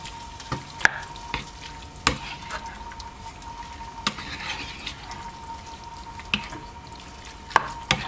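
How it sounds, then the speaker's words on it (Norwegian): Food frying in a pan, with a low steady sizzle under sharp, irregular clicks and taps from stirring, close and fairly loud, with no talk. "Jeg tok nettopp på stekepanna."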